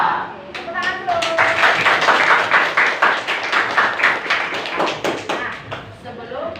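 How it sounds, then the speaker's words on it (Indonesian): Junior high school students clapping together in a classroom, a loud dense run of rhythmic hand claps with voices mixed in. "Tepuk tangan dulu."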